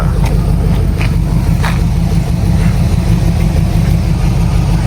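An old project car's engine runs close by with a steady, loud, low rumble, idling evenly throughout with no pauses.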